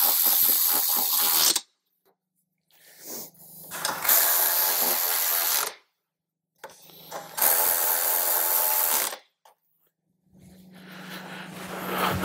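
A ratchet tightens the bolts during a Rockford audio upgrade on a 2021-or-newer Harley-Davidson CVO, in three long bursts of rapid clicking separated by pauses, close and fairly loud.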